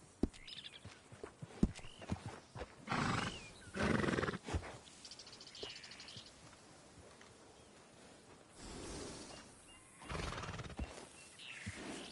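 Horses in Red Dead Redemption 2 snort and whinny in several breathy bursts at moderate distance, with hoof clip-clops and faint outdoor ambience between them.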